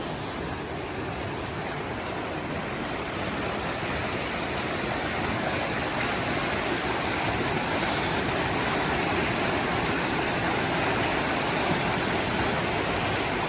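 The Thunder River rushes loudly and continuously along the Hayduke Trail, a dense, even roar of flowing water close by, with no voices.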